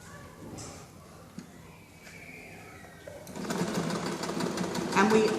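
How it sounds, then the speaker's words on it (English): A sewing machine runs a straight decorative stitch along the edge of a pillowcase, its steady mechanical whir rising in the last couple of seconds and staying close and fairly loud. "we're going to just finish our pillowcase off with a very beautiful straight stitch"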